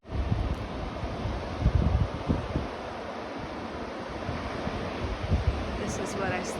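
Ocean surf washing onto an Oregon coast beach in the morning, a steady broadband roar with gentle swells rising and falling, mixed with wind buffeting the microphone and no talking.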